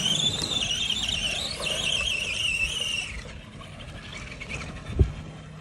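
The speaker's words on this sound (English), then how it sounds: "this time I'll be scaling this mountain up to about that point with this RC cart, and this time I brought weights" An RC car loaded with 3 pounds of weights climbs a mountain slope, its electric motor whining high and steady for about three seconds before fading, followed by a single sharp thump.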